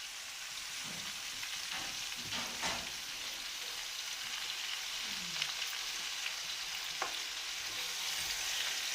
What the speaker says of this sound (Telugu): తర్వాత అయితే మొత్తం అడుగు పట్టకుండా కలుపుతూ ఉండాలి.